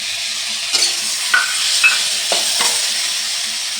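Ground spices and cumin sizzle loudly in hot oil in a pan for a paneer gravy, a constant close frying hiss broken by a few quick scraping stirs of a spatula.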